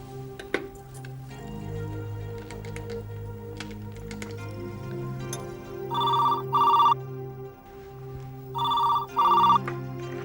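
A telephone rings back on an outgoing call to an office: two double bursts of a bright electronic ring, moderately loud, heard over a low steady background hum with no talking.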